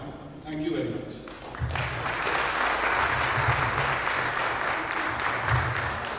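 An audience at the launch of the Maruti Suzuki Jimny at a NEXA showroom in Bangalore applauds, with talk trailing off first and then a loud, sustained burst of dense clapping filling the room.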